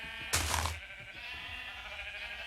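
A sheep in a Minecraft passive mob farm gives one loud bleat, short and near, over a quiet game background with no talk.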